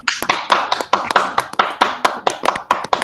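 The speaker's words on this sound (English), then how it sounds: "You guys should welcome her with your claps." Applause from an online meeting audience: sharp, rapid handclaps at close range in a quick, fairly regular rhythm, several to a second, with no talk over them.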